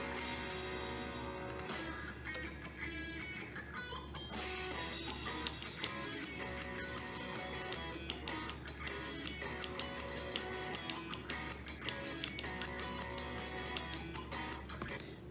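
Lead guitar part played on electric guitar over a full band backing, with busy melodic runs and steady drums throughout, loud and continuous.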